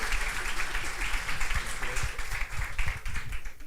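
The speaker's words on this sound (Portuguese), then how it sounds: "Eu queria uma salva de palmas" A church congregation claps together to honour their pastor turning 66, a dense, steady wash of many hands applauding at moderate volume throughout, with no pauses.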